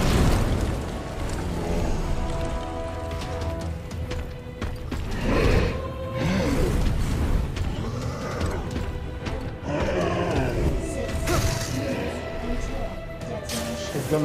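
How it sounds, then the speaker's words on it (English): A flashbang grenade from Resident Evil 2 goes off with a sharp bang and ringing burst amid other combat noise, with several heavy impacts scattered through the passage and someone talking throughout. "A flashbang."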